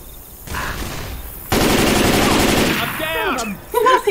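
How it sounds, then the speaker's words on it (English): Automatic weapon fire in Left 4 Dead 2 as Ellis gives cover fire: a loud, sustained burst of rapid gunshots, preceded by quieter shooting and followed by voices talking. "Ellis is providing cover fire"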